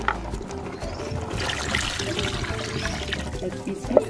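Water being poured in a Ugandan village kitchen, a steady close splashing trickle lasting several seconds, moderately loud and uninterrupted by talk.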